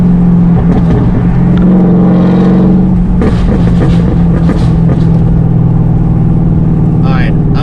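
A car engine, a Mercedes CLK500 or a supercharged BMW E36 M3, drones loudly and steadily close by during a pull. Its note swells and roughens partway through before settling back into a sustained roar.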